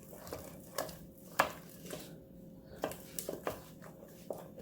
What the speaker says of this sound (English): once you've added your final egg in, and you're going to whisk it, it will start to come together